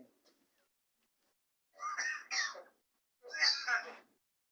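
Two pairs of rough, hacking bursts from a myna bird imitating a human cough, close and clear against near silence.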